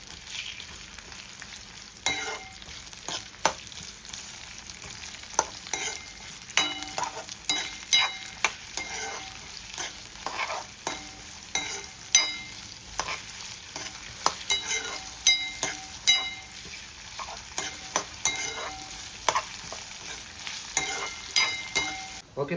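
Onions and green chilies frying in a pan while a spoon stirs them, giving a continuous sizzle broken by frequent sharp scraping knocks throughout, close and clear with no talking.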